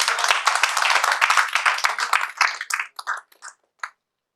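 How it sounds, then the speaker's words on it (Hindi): An audience at a direct selling training session for Kangen water machines claps in a loud, brisk burst that thins into a few scattered, separate claps before stopping. "चलिए इनके तालियां का जोरदार एक बार।"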